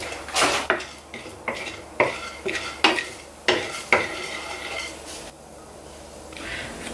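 A handful of sunflower seeds roasts in a pan, stirred with a utensil: a run of sharp scraping clatters and light rattling at an irregular pace over faint sizzling, close up, easing off toward the end.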